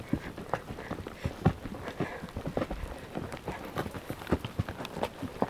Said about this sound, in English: And you can hear it in the bushes.